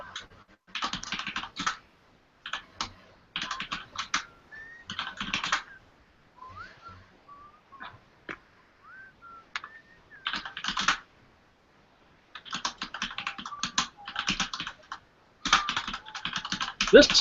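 Bursts of rapid keyboard typing come and go in clusters, with soft whistling drifting through the quieter gaps between them.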